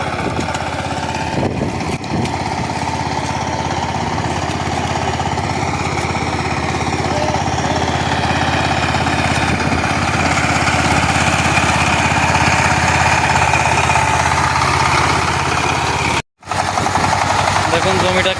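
A power tiller engine tilling a village field for a third pass, churning the soil: a loud, steady, rattling engine drone that runs continuously and close by, with only a brief dropout near the end.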